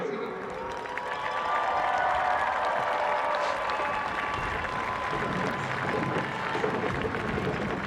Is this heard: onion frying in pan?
no